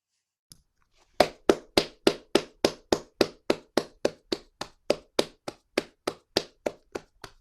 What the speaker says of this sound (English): Hands now clap